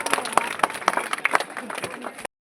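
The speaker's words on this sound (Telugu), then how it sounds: "ఒకసారి గట్టిగా క్లాప్స్ కొట్టి పిల్లలు గట్టిగా క్లాప్స్ కొట్టి వారికి అర్థం తెలుపుదాం" Children clapping loudly at a gathering, a burst of sharp hand claps under a raised voice, ending abruptly.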